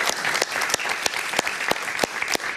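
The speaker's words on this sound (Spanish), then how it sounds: "Un aplauso para ella, por favor." Studio audience of a Spanish-language talk show bursts into loud, continuous applause, with a few sharper individual claps standing out in the dense clapping.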